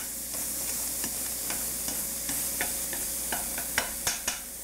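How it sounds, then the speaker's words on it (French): Shallot sizzles steadily in a pan with a constant frying hiss, broken by several light clicks from stirring that grow sharper toward the end. "J'ajoute l'échalote. On le laisse revenir quelques instants."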